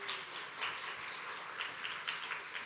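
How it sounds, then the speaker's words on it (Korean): A church audience gives a warm round of applause to welcome a visiting missionary, a dense, steady patter of many hands heard from across a large room, without pause for nearly three seconds. "여러분 먼저 박수 한번 하겠습니다."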